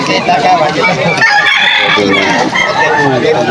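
A seven-month-old stag, a young Gilmore Gray gamecock, crows loudly and close by in a harsh, drawn-out call, with people talking around it at a gamefowl market.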